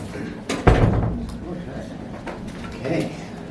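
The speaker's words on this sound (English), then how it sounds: "Should I shut the door?" A door is pushed shut with one solid thud in a room at a state civics competition, with people talking before and after.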